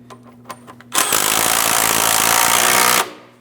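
Power tool snugging the front lower control arm mounting nuts on a 2005-2010 Chrysler 300, a few light clicks and then a loud continuous two-second rattling whir that cuts off abruptly.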